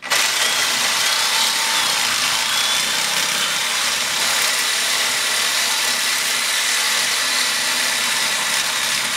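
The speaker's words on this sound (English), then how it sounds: "That is practicing Sawzall safety." A Sawzall reciprocating saw cuts steadily and loudly, a harsh, continuous buzzing grind running close up for the whole stretch without pause or talk.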